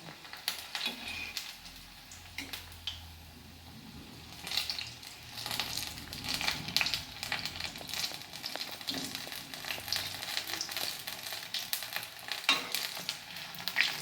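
Urad dal medu vada frying in hot oil, a steady low crackle and sizzle with scattered pops and ticks running throughout, fairly quiet and with no voices.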